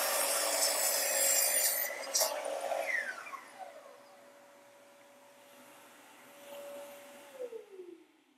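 A saw cuts wooden window casing moldings, a loud rasping whine in a short burst followed by a spin-down whir that fades, then a faint tail, close with no talk.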